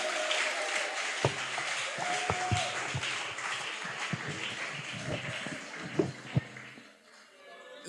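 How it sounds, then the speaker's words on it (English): Scattered audience applause welcomes a professor to the stage at a talk, a moderate wash of clapping with a few louder nearby claps and thumps, murmured voices underneath, fading out at the end. "with a resounding round of applause"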